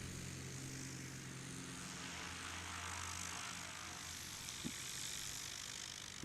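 A light plane takes off with its flaps lowered at a Central Florida Classic qualifying round. The engine drones steadily, some way off, under a broad outdoor wash, and a couple of brief clicks come near the end.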